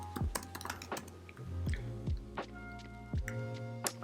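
Fast typing on a computer keyboard, close and clear, with irregular bursts of sharp key clicks and a few louder thumps, no talking.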